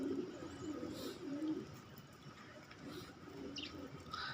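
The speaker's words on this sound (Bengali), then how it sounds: "দেখেন যে পানির মধ্যে যে 4টা কবুতর আছে" Pigeons coo in low, rolling phrases near water, moderately close and repeated, with faint higher chirps and background hiss.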